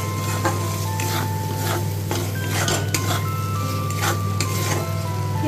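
A spoon stirs spices and salt through a pan of egg and potato curry base, giving rhythmic scraping and clinking strokes over a steady low hum, close by with no talk.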